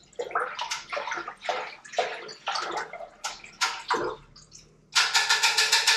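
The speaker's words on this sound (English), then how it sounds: "I'll give this a good stir. Got to oxygenate it a little bit." Hard seltzer wort is stirred vigorously in a home-brew fermenter, giving rhythmic bursts of splashing and sloshing water that grow louder and faster toward the end.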